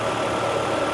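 Volvo 850 engine idling steadily with a smooth, even hum, continuous and fairly close, with no talk over it.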